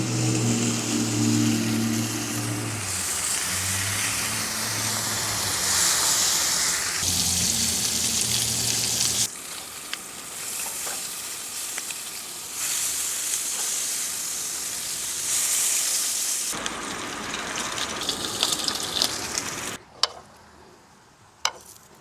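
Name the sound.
bacon frying on a Coleman Triton camping stove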